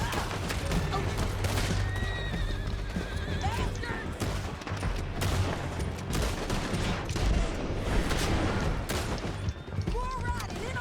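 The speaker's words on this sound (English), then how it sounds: "Lance, men on horses." Horses whinny repeatedly in Red Dead Redemption 2 as riders close in through a canyon. Pounding hooves and bursts of gunfire surround them, and the mix stays loud and busy throughout.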